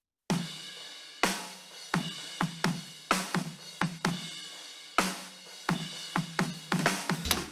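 A soloed kick-snare microphone on an alternative rock drum kit, serving as a snare bottom with a knocky kick, picks up a steady groove of sharp, close drum hits with bright rattling decay, alone without talk.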